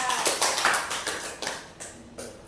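A small group claps briefly for a student in a classroom, a handful of separate sharp claps spaced irregularly across a couple of seconds, fairly close, with a voice faintly underneath.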